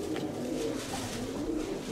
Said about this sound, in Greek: Έρχονται, έρχονται έτσι όλα τα περιστέρια.